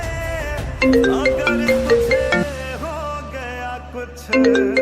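A mobile phone ringtone plays loud and close, a bright chiming electronic melody of repeated tonal phrases with a short pause before it starts again.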